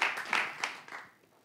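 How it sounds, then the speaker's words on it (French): Brief, fairly faint applause for the competing teams during a French quiz show, a short burst of clapping with a few distinct claps that quickly fades away. "applaudissez les équipes"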